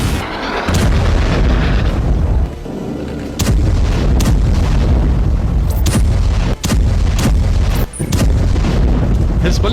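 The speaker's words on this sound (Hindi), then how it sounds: "हिजबुल्लाह ने उत्तरी इजरायल पर मिसाइलें दागी तो 9 मंजिला एक इमारत धराशायी हो गई।" Missile strikes hit northern Israel and a nine-storey building collapses, a continuous roaring rumble of blasts and debris with several heavy booms punctuating it, loud and close.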